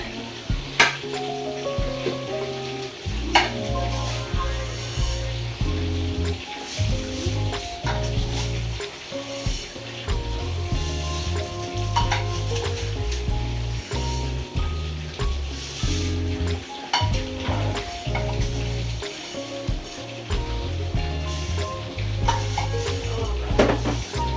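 Rice pours into a pot of Jamaican rice and peas and is stirred, with scraping, clinking utensils and a steady sizzle running throughout, close and moderately loud.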